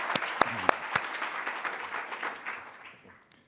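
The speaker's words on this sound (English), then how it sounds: "We could clap for them." Audience at a nonprofit annual meeting applauding outgoing board members: a short burst of crowd clapping with a few sharp claps in front, fading out within a few seconds.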